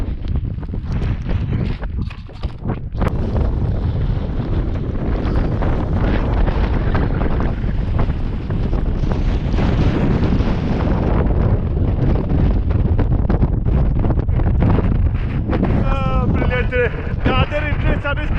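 Strong mountain wind roars steadily into the microphone on an exposed ridge of Cader Idris above Llyn Cai, loud and continuous, with gusty buffeting throughout.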